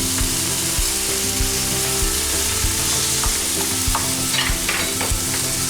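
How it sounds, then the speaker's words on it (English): Green pepper, onion and tomatoes fry in a pan with a steady close sizzle, broken by regular stirring scrapes and clacks, with no talking. "I'm frying in a quarter green pepper, half an onion, and 2 medium tomatoes."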